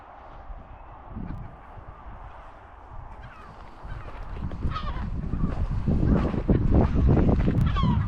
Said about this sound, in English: Seagulls are not happy.